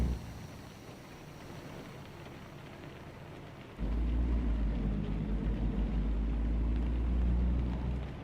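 Heavy rain in a car simulator game, a steady hiss of downpour that swells abruptly into a louder, deeper rumbling wash of rain and low thunder partway through, continuing without talk.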